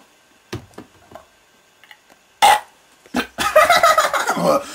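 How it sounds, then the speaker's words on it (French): A man lets out loud burps, a few short bursts and then a long, rumbling, gurgling belch at the end, close and alone with no talking. "je fais des gros rots"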